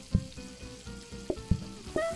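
Food sizzles on the stove in the kitchen game PlateUp, a soft continuous frying hiss broken by a few short thuds and bright blips, close and steady with no talking.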